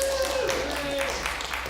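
A live slam poetry audience in New Zealand cheers and claps, a loud, steady wash of crowd noise and voices filling the whole moment.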